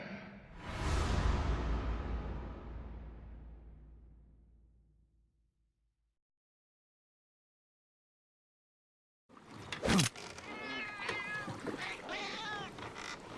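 A cat meows in the Metal Gear Solid Peace Walker video game, a loud drawn-out call that trails off into silence, followed a few seconds later by voices talking.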